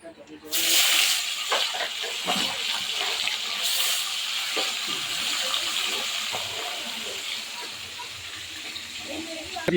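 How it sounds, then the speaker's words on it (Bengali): Fish fries in hot oil, a steady, close sizzling hiss that bursts in after half a second and carries on throughout, with a voice faintly audible underneath. "এই যে এক খোলা ভাজা হলো, আরও আছে,"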